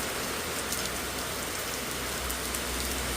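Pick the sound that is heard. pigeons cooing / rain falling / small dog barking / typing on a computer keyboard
rain falling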